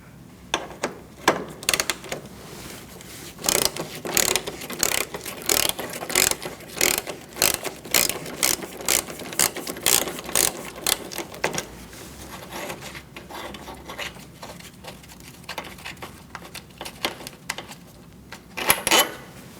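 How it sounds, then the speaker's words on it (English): Ratchet wrench with an 8mm socket clicking rapidly in bursts while loosening a headlight bolt on a 2008-2014 Mercedes-Benz C300, close-up and crisp with brief pauses between runs. "We're going to use an 8mm socket, and we're going to take out a bolt here"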